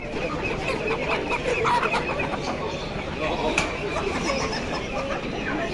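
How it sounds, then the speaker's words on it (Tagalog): Chickens cluck amid the bustle of an outdoor animal market in Fossano, Italy, their calls mixed into steady crowd noise and nearby talking. "Tapos may mga manok din doon"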